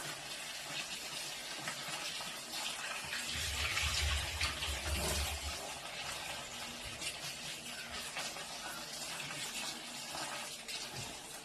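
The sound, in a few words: washing star fruit under running water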